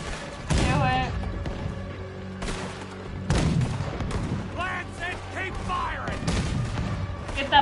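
Cannon fire aimed at a boat in Red Dead Redemption 2, with several heavy booming blasts spaced across the clip amid gunfire, under excited talk from players.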